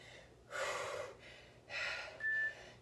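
Heavy, gasping breaths after a cardio HIIT workout, two long loud exhales about a second apart followed by a shorter breath with a faint whistle, close and otherwise quiet.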